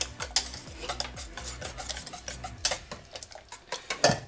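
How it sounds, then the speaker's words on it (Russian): A spoon stirs pancake batter mixed with soda in a bowl, producing quick, rhythmic scraping and clinking against the bowl's side. The sound is close and steady, with no speech. "Все, размешиваем, ребят."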